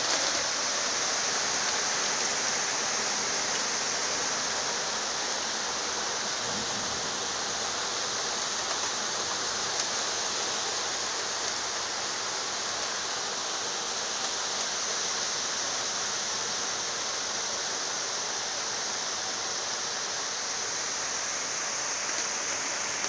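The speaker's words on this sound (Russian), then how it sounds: "Мама дорогая, тут потоп." Heavy downpour lashing Moscow streets during a flood, a dense, steady roar of rain and rushing water that holds evenly loud throughout with no voices.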